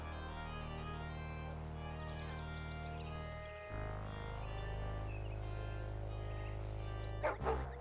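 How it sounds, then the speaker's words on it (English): A digitized dog in the retro PC adventure game Star Trek: Judgment Rites barks and yips faintly within sustained synthesized game music, with a short burst of sharper sounds near the end. "I would not get near that dog if I were you, Jim."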